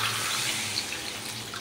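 Water is poured into a pot of vegetarian jackfruit curry, a short, steady rushing splash close by.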